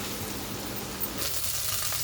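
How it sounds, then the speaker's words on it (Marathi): Ground masala paste hits hot oil in a pan and fries with a steady, close sizzle that swells sharply partway through. "तेल गरम झालेलं आहे. आता आपण ह्याच्यात वाटण टाकूया. वाटण एकदम परतून घ्यायचं आहे."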